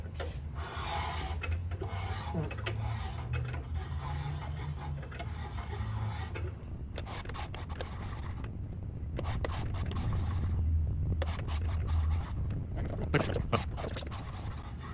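Counter bores for piston liners are cut into an engine block with a hand-turned cutting tool, giving a continuous close rasping, scraping metal sound in repeated strokes and turns with brief pauses, no talk.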